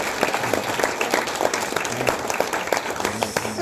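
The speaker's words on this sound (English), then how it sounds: "Let's give them another round of applause." An audience at a library concert by an elementary school music group gives a lively round of applause, with dense close clapping throughout and a few scattered voices mixed in.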